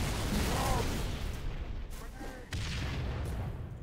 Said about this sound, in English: They're all throwing grenades at the same time.